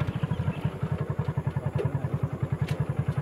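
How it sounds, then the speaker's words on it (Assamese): A motorcycle engine out in the woods chugs in a steady, rapid pulsing rhythm and sputters without fully catching, loud and close, with light clatter and no talking. "বাইকো ষ্টাৰ্ট বন্ধ হয় হাবিৰ মাজত"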